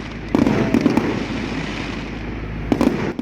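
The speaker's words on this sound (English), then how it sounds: "Cultural performances were capped off with a spectacular fireworks display." A fireworks display bursts over the Dunedin Chinese Garden for Chinese New Year, with a continuous crackling roar and several sharp booming reports rising above it, loud and close.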